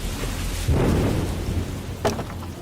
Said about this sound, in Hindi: बारिश कई घंटों से हो रही है।